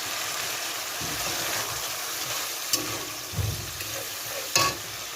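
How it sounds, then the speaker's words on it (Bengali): Spice masala with added water bubbles and sizzles in a pan for a fish curry, with a steady close hiss broken by a few brief stirring scrapes and clinks. "মশলাটা দেখো ফুটেই গেছে"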